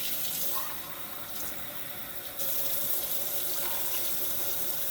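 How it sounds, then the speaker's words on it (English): Kitchen tap water runs steadily into an emptied tomato paste can. A continuous, fairly loud hiss shifts slightly in pitch as the can fills, with no talking. "I'm going to add water, and that's also going to help me clean out this can."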